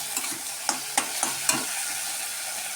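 Cumin and chili powder sautéing in a pan, with several sharp stirring scrapes and clinks over a steady soft sizzle, close and fairly quiet.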